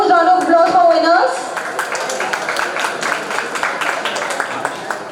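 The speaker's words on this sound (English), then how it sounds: "Let's have a huge round of applause for winners." An audience at a college IT fest applauds the winners. A voice speaks over the opening second, then many hands clap in a dense, fairly loud wave that carries on steadily.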